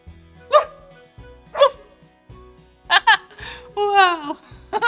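People mimic a dog with their voices, giving short barking woofs, then a quick pair of yips and a longer, rising and falling whine. The sounds are close and loud, with pauses between them.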